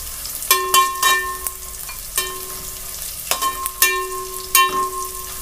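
Whole spices (cloves, black pepper and cinnamon) frying in oil for Kashmiri matar pulao, with sharp bursts of sizzle and several ringing metallic clinks from stirring against the pan, close and fairly loud.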